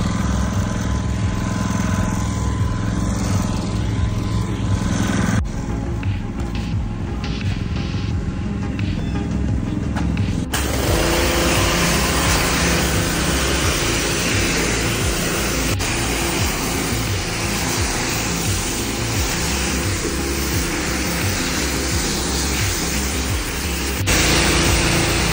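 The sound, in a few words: car being driven to air-dry after washing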